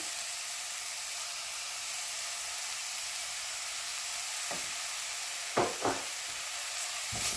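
Apple pie filling with sugar in a hot pan, a steady soft sizzling hiss throughout, with a few brief scraping stirs near the end, close and unaccompanied by talk.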